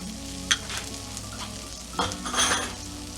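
A spoon stirs salt and pepper into a creamy pasta sauce in a pan, with close scraping and clinks over a constant sizzle, no speech.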